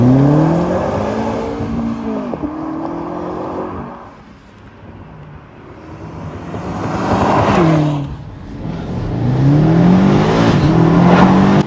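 BMW X5 M Competition driven hard along twisty back roads, its engine revving up and easing off repeatedly through the bends, loud and close with wind and road roar in between.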